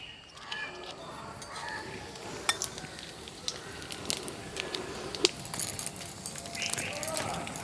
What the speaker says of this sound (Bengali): এদিকে তেল গরম হয়ে গেছে, এর মধ্যে আমি 2টো শুকনো লঙ্কা আর একটু জিরে ফোড়ন দিয়ে দেবো।